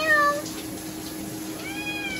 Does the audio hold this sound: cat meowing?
yes